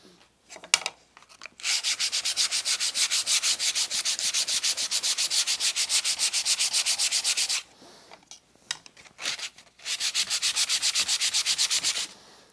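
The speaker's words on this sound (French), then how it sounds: "Il faut encore que je ponce ici et surtout ici." Sandpaper rubs by hand inside a small wooden box to clear burn marks, close rhythmic back-and-forth scratching strokes in two long runs separated by a pause with a few handling knocks.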